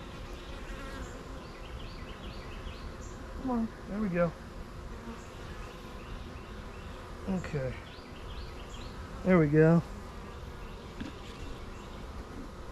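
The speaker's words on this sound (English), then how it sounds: "A live bee and some dead bees on here." Honey bees buzzing around a weak hive during an inspection, with short buzzing bursts rising close by over a steady low background hum while a person speaks briefly.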